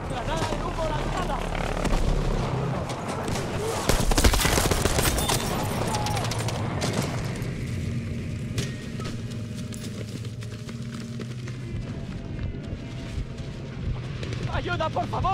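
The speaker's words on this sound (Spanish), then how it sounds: "¡Un JB2 Thunderbird! Recibido. El ataque aéreo va de camino." Air strike explosions from a JB-2 Thunderbird missile in Battlefield V: rumbling blasts and heavy booms over a steady aircraft drone, with a strong hit near the start and distant battle noise continuing, moderately loud.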